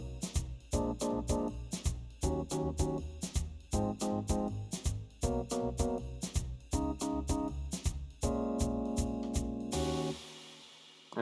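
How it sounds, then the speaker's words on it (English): Half octagon swing rhythm from the rhythm game A Dance of Fire and Ice, World 10: bright percussive tile hits in a lilting long-short pattern over a melodic backing, repeating in clusters before ending on a sustained chord. "They call this a half octagon swing."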